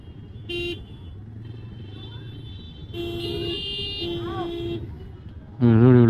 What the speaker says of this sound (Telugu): ఇప్పుడు వెనుకలు ఆరెన్ కొడుతూనే ఉన్నాడు.